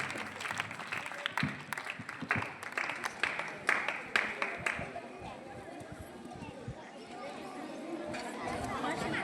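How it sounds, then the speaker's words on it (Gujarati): Applause from children and staff for a teacher at a primary school Republic Day event, bursts of scattered clapping rising and falling amid crowd chatter, with a voice speaking. "તો જોરદાર તાળીઓ સાથે આપણે આપણા બહેનને વધારીએ."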